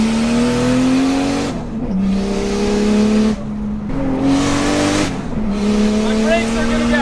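Toyota Chaser and Jaguar racing on a track, engines revving hard with a steady loud drone that drops at each gear shift, brief tire squeal, and a voice speaking over the noise.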